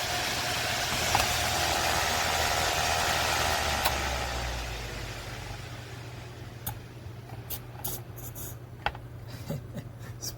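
An IETS GT500 laptop cooling pad's 4600 RPM turbo fan spins with a steady, loud whirring hum for about four seconds, then drops to a softer drone dotted with small clicks.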